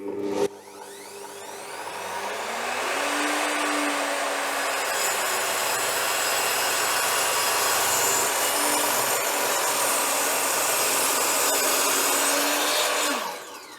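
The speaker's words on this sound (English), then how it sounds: "let's have a look how the Saxton blade will cope with the plywood" A circular saw fitted with a Saxton blade cuts through plywood, a steady loud whine with rising pitch at spin-up, sustained rasping cut for about twelve seconds, then spinning down.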